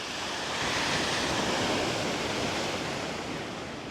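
Strong ocean waves crash against a shore wall in Puerto Vallarta after Hurricane Priscilla, a dense, steady roar of surf that swells slightly and holds for a few seconds.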